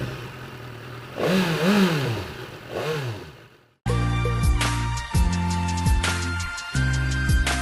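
A BMW S1000R, a 1000 cc inline-four naked motorcycle with 160 horsepower, starts its ride: after a few seconds of quieter sound the engine cuts in loud and close, holding a steady drone broken by repeated sharp throttle blips and revs.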